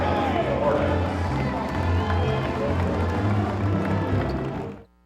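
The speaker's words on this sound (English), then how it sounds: "big round of applause for our seniors" A crowd at a Golden Hornets basketball game applauds the seniors leaving their home floor, a loud, steady wash of clapping and cheering that runs for about five seconds before cutting off abruptly, with an announcer's voice over it.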